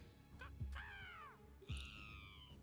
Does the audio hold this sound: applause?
no